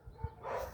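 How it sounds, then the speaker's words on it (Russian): Dogs barking outdoors during a walk, a single short low bark standing out near the middle of a brief stretch of ambient street noise, fairly faint and somewhat distant. "Вон там собаки бегут."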